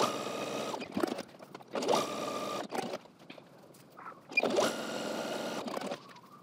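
A sewing machine runs in several short bursts of rapid mechanical whirring as it stay stitches two lines within a seam allowance, close and moderately loud, with quiet pauses and fabric handling between runs.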